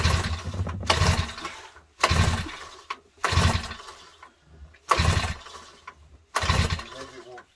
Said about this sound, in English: Maybe it won't start on full throttle.